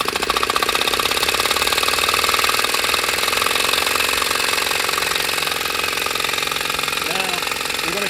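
A linear gear drive engine prototype runs on compressed air with a loud, steady, rapid mechanical chatter like a small jackhammer, continuous throughout, and a faint whistle-like squeak near the end.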